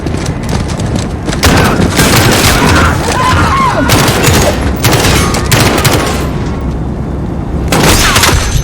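Loud gunfire and heavy booms crash through a Call of Duty: Modern Warfare campaign mission, Into the Furnace, in repeated intense bursts separated by short lulls of rumbling battle noise.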